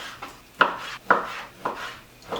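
Knife strokes cutting beef into small pieces on a board, about five sharp chopping hits at a steady, unhurried pace, close up with no talking.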